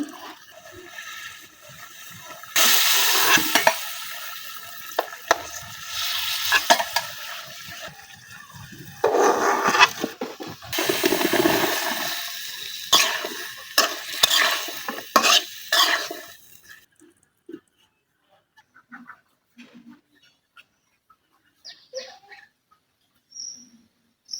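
Fish and vegetables are stirred and sautéed in a pan, with a spatula scraping and clattering over a bright sizzle in bursts, before it drops away to near quiet with only faint scattered clinks.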